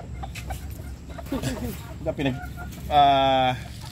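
A Mitra Blue game fowl clucks in short bursts, followed by a louder, sustained harmonic squawk, close to the microphone over a quiet background.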